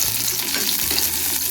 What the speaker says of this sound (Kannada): ಇದೆಲ್ಲ ಚೆನ್ನಾಗಿ ಸ್ವಲ್ಪ ಫ್ರೈ ಮಾಡ್ಕೋಬೇಕು.